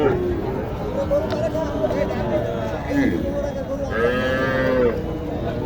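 Sahiwal cross cattle low repeatedly in drawn-out moos at a busy cattle market in Naogaon, heard over a constant babble of people talking nearby.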